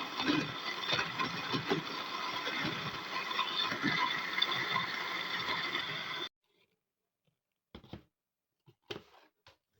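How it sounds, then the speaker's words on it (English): A blender whirs loudly and steadily for several seconds blending coconut with water, then cuts off, leaving a few faint clicks and knocks. "Add some water and blend smoothly."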